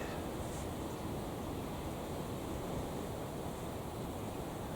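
Strong gusting wind roars steadily around a hot tent at a camp, a dense, broad rush of air with no pauses and no voices.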